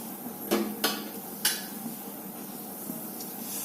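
A lid is set onto a pot of young bottle gourd leaves cooking, giving a few sharp metallic clinks in quick succession over a soft steady sizzle, with no talking.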